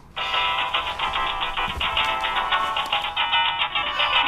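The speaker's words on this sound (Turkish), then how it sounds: "Bilmediğim bir numara arıyor." A mobile phone ringing with an incoming call from an unknown number, a continuous bright electronic ringtone that starts abruptly and plays steadily and loudly with no talk over it.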